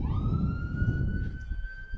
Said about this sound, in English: No, that's a ambulance.